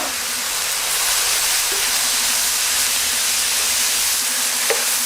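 Leeks, capsicum, zucchini and celery sizzle in a hot pan, a bright steady hiss of frying held at an even level for several seconds, with a faint low hum underneath.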